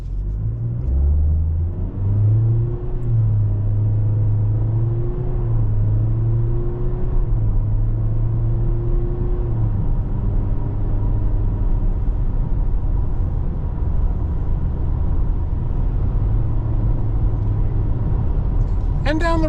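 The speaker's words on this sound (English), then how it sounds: "Now we're going to do a little 0 to 60, but we're not going to go crazy." A 2024 Toyota Corolla SE Hatchback accelerates gently from a stop toward 60 mph, its engine drone rising in pitch through several gear changes before settling into a steady cruise, heard loud from inside the cabin with low road rumble beneath.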